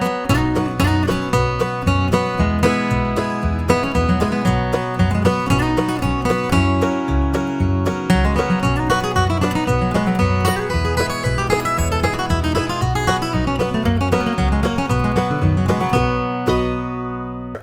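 A bluegrass lick is picked over the chord progression of a classic song, with bright, rapid plucked string notes over a steady rhythmic backing for about seventeen seconds, ending on a ringing note.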